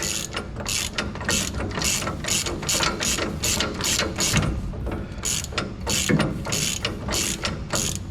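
A ratchet wrench cranks rapidly and continuously while shocks are installed on a lifted Squarebody truck, a loud, close, rhythmic clicking burst after burst with no talk.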